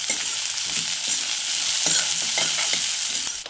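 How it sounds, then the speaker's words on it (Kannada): Chopped medium-size onion frying in a pan with a steady bright sizzle, punctuated by repeated scraping stirs of a spoon against the pan, close and without talk. "ಒಂದು ಮೀಡಿಯಂ ಸೈಜ್ ಈರುಳ್ಳಿ ಕಟ್ ಮಾಡಿಬಿಟ್ಟು ಹಾಕ್ತಾ ಇದ್ದೀನಿ. ಈರುಳ್ಳಿ ಸ್ವಲ್ಪ ಸಾಫ್ಟ್ ಆಗೋವರೆಗೂ ಬೇಯಿಸ್ಕೋಬೇಕು."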